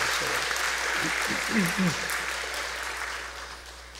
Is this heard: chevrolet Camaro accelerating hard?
no